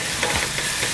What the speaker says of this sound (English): once it starts to sizzle, we're just gonna cook this for about a minute